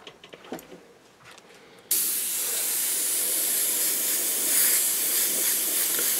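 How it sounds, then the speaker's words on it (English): After a quiet moment with soft handling noises, a spray paint can bursts into a steady, loud, close hiss through a stencil and keeps spraying without a break to the end. "Again, don't just blast the paint on really heavy and make it run like that."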